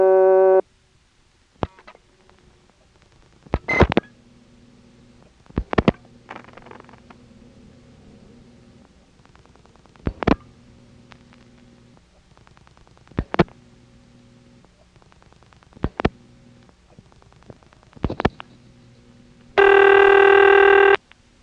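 Telephone line signals from a 1976 step-by-step exchange recording: repeated sharp clicks and short dial pulses over a low steady hum, a brief tone burst at the start and a loud, sustained ringing or signal tone near the end.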